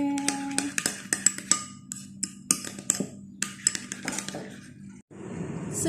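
A spoon stirs a chicken burger mixture with a little lemon juice in a bowl, clinking and scraping against the sides in a steady run of close, bright taps.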